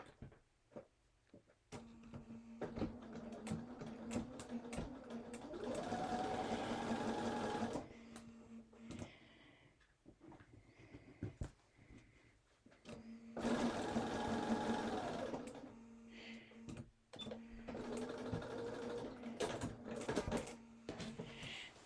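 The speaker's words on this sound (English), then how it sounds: "I'm only going to sew part way. Stop and then sew the rest of it." A sewing machine stitches holiday placemats in two long steady runs with a pause between them, its motor humming evenly amid faint fabric handling and small clicks, fairly quiet and close.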